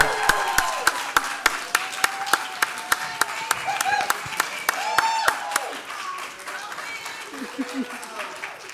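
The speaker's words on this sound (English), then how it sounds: "I ask that you stand and give a huge round of applause" An audience applauds the author of Boomtown at a live author conversation event. Sharp, steady clapping runs throughout, with voices talking over it and cheering rising in the middle.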